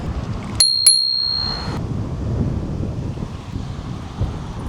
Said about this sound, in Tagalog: So another accessories na nabili ko ay ito po yung parang bell niya.